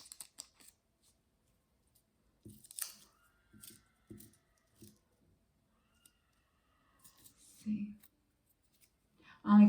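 Small scissors snipping pieces of nail adhesive while applying press-on gel nails: a few quiet, scattered snips and clicks spread out over several seconds, with a soft voice murmuring in between.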